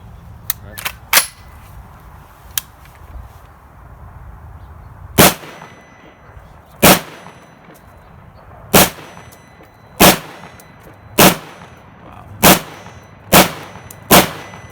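An H&K firearm fires about a dozen sharp, loud gunshots, a few quick ones early and then single shots spaced every second or two, each with a short ringing tail over quiet background.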